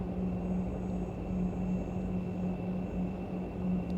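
Steady airliner engine drone from the X-Plane 11 flight simulator near Seattle, a continuous low rumble with a sustained tonal hum, even and unbroken throughout.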